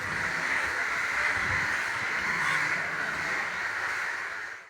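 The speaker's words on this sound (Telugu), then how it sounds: "మనుషులకి చాలా చేరువుగా నివసించేటువంటి గొప్ప జీవ వైవిధ్యం కలిగి ఉన్నటువంటి జీవులు కాకులు." A flock of crows caws continuously, a dense overlapping chorus of harsh calls holding steady and loud before trailing off at the end.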